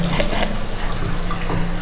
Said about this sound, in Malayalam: ആദ്യം രണ്ട് കൈ ഒന്ന് ക്ലിയർ ആയിട്ട് കഴുകണം എന്നുള്ളതാണ്.